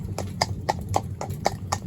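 A cob cross horse's hooves clip-clop in an even walking rhythm, close and distinct, about seven steps in under two seconds with no talk over them.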